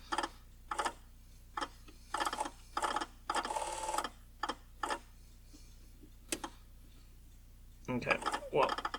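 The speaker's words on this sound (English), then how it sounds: "Getting the climate control servos to work." Climate control servos on an early Jaguar XJ-S with Lucas electrics run in short, repeated mechanical whirring bursts, irregularly spaced and fairly close, with a longer buzz in the middle and a rattling burst at the end.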